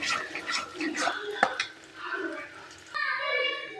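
Goat intestine curry being stirred in hot oil in a pan, with soft scraping and sloshing and a faint sizzle, broken by a few sharp clinks of a spoon. A voice speaks over the cooking.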